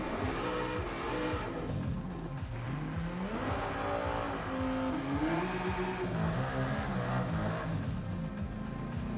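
A car engine in Forza Horizon 5 revs loudly and continuously, its pitch sweeping up and down through gear changes, heard up close with a faint tire squeal and no talk over it.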